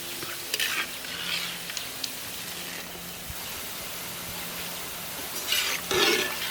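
Boondi batter dropping through a perforated ladle into hot groundnut oil for a spicy mixture, producing a continuous hiss with brief louder bursts of bubbling near the start and end.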